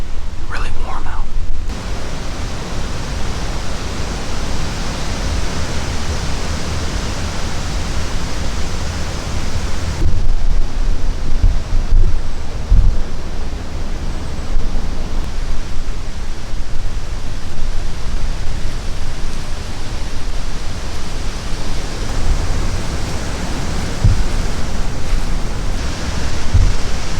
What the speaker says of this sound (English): it's really windy and really warm out